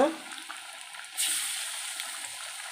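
Keerai vada, spinach fritters, frying in hot oil, a hissing sizzle that jumps louder partway through and then holds steady.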